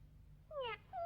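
A cat gives a short pair of meows, the first a clear falling call and the second briefer, fairly close against a quiet background.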